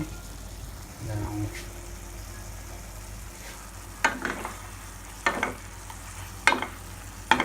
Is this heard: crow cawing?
no